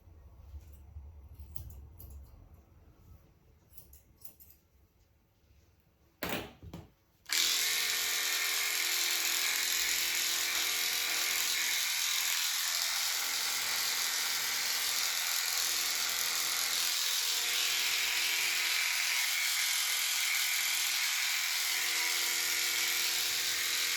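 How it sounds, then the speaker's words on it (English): Electric clippers trim a schnauzer's coat. A quiet stretch of brushing and handling leads into a steady, close, high-pitched buzz that runs without a break for the remaining seventeen seconds, with small shifts in tone as the blades move through the fur. "then trim around the outside of little bits"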